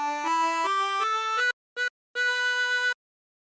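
A 24-hole tremolo harmonica plays a song melody, a run of sustained reedy notes stepping in pitch, then a short stab and a final long held note, close and clear with no talk.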